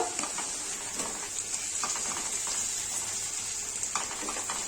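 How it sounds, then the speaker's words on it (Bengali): Sliced onions frying in oil in a pan for capsicum chicken, a steady soft sizzle with occasional light stirring scrapes, close and fairly quiet, no voices. "পেঁয়াজটা আমার ভাজা ভাজা হয়ে আসছে সুন্দর গলে গেছে"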